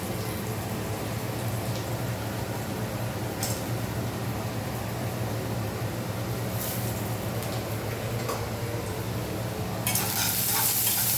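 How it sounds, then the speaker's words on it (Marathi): Vada dropped into hot oil, a steady dense sizzle and bubbling close by throughout, with a few sharper crackles and a brighter hiss rising near the end; no one speaks. "आता आपण याच्यामध्ये वडा टाकून घेऊया."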